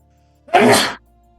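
A single loud, close sneeze bursting out briefly, alone against a quiet room hum.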